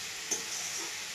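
Tomato chicken frying in a pan gives a steady, soft sizzle throughout, with one brief louder knock near the start.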